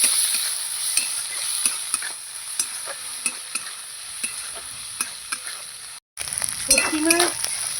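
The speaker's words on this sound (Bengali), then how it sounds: "এবার শুটকি মাছটা দিয়ে পেঁয়াজের সঙ্গে লাল লাল করে দিয়ে ভালো করে ভেজে নেবো" Onion and dried fish frying in a pan with bamboo shoot cooking nearby, steady sizzle under repeated sharp scrapes and clinks of a spoon stirring, close and fairly loud, with a brief dropout before busier stirring resumes.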